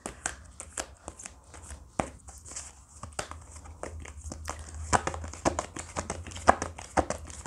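Tarot cards are shuffled by hand close up in quick crisp riffles and flicks, with an irregular run of sharp papery snaps and no talk.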